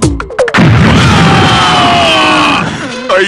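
A comic bomb blast in a film scene: a sharp burst at the start, then a loud, sustained rumbling roar with whining tones that fades away after about two and a half seconds.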